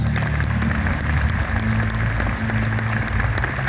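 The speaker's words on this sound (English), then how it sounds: "Your applause in 5, 4, 3, 2, and your applause, please." An audience applauds at the 2023 NASCAR Hall of Fame induction ceremony, a steady roar of clapping carried under music, continuous and loud.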